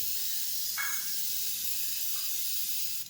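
Pencil airbrush spray gun run from a compressor, spraying watery paint with the nozzle loosened for a wider line: a steady close hiss of air throughout, with brief faint sputters of spray.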